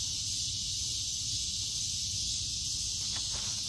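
Refrigerant hisses from the leaking air conditioner compressor on a Chevy truck, a steady, faint, airy hiss heard up close and alone for a few seconds.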